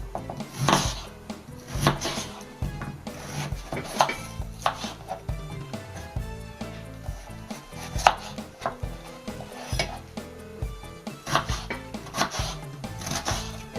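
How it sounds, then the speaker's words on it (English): Knife slicing peeled, washed potatoes into fry-sized pieces, repeated sharp chops against a cutting board in uneven bursts, close and clear with no talk. "So now we are going to slice them"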